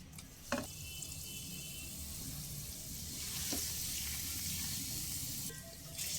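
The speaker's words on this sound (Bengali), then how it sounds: "শুকনো লঙ্কা আর কারি পাতাগুলো ভেজে নেব একসঙ্গে" Dried red chillies and washed curry leaves fry together in oil over low flame, a continuous crackling sizzle that swells midway, with a couple of faint clinks.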